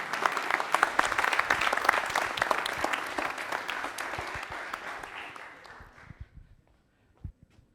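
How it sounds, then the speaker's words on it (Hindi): Loud applause from a quiz-show audience rewarding a correct answer on a Republic Day special, dense clapping that gradually thins and fades out near the end, with a couple of stray claps afterward. "तालियां जोरदार"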